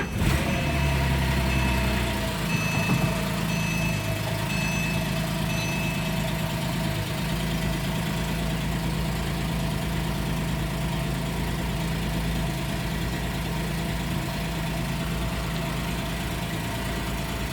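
A 2010 Porsche 911 997.2 Carrera S with 59,000 miles idles steadily nearby, a smooth continuous engine hum with a faint high whine, running alone without talk for the whole stretch.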